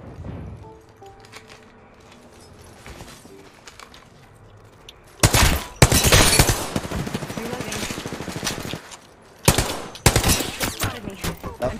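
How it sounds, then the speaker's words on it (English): Bursts of rapid automatic gunfire in an Apex Legends match, loud and close, arriving in two dense volleys after a quieter stretch of faint clicks and game tones. "Getting shot at."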